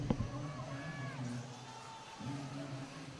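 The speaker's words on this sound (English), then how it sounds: "Got some cheering for Dustin Metz" At a Sportsman electric buggy race at the Silver State Championship, a distant crowd cheers for racer Dustin Metz, a faint swell of shouts and whoops that fades briefly, then rises again, with a voice over it.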